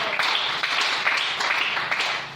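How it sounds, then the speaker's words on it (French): Church congregation applauding the Lord, a steady wash of many hands clapping close and loud, continuous for the whole short stretch with no talk over it. "Est-ce qu'on peut acclamer le Seigneur?"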